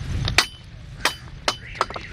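A track maintenance worker's hammer rings against a steel railway rail in four sharp metallic strikes, spaced irregularly and heard fairly close over low rumbling background noise.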